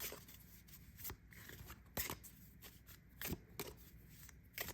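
Tarot cards being overhand shuffled by hand in repeated bursts, soft papery slaps and flutters coming in irregular clusters, close up.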